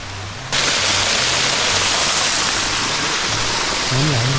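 Water flowing steadily beside the Monk's Trail up Doi Suthep near Chiang Mai, a loud continuous rushing hiss starting abruptly after a brief pause, with a low voice briefly audible underneath.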